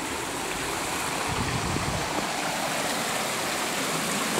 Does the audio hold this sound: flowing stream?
yes